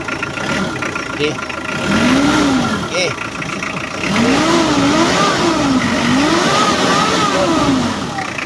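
A Hyundai Porter truck's D4BH diesel engine idles and revs in repeated rising and falling surges, loud and close, with voices talking over it.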